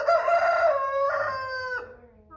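An American Bresse rooster gives one loud, close crow lasting nearly two seconds, with a rising start, a held middle and a falling tail, followed by quiet.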